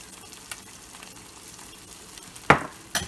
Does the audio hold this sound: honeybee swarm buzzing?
no